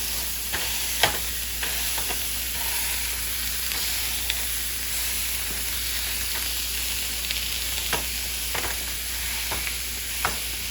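Ground meat for soft tacos sizzles steadily in a hot pan, a continuous close frying hiss broken by occasional scrapes and taps as it is broken up, with no talking.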